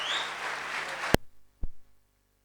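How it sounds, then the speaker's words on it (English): A brief burst of crowd applause with a whistle at a Tata Motors vehicle launch with Akshay Kumar cuts off abruptly, followed by a couple of isolated clicks and silence. "Ladies and gentlemen, Ravi sir, Akshay sir, let's give them a huge round of applause."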